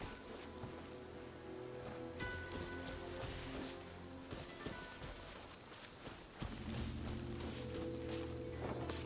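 Steady rain falls in the Genshin Impact video game, a constant hiss of drops spattering on surfaces with small taps and splashes, heard alone at a moderate, even level.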